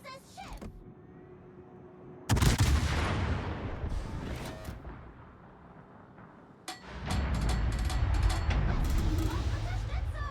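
Heavy naval gunfire in a ships video game, two loud booming salvos with long rumbling tails, the second followed by sustained crackling blasts.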